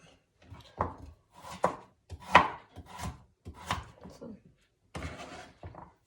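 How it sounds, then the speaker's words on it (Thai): Vegetables being cut with a knife on a board in a home kitchen while preparing a mixed stir-fry of cabbage and other greens, about a dozen irregular close thunks with quiet gaps and soft talk between. "อันนี้ก็เอามาหั่น"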